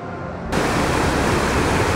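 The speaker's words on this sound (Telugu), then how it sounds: "ప్యారడైజ్ వాటర్ ఫాల్స్ ఇది." Paradise waterfall in Malshej Ghat, blown about by wind: a loud, steady broadband roar of falling water that starts abruptly and holds level, with no talking.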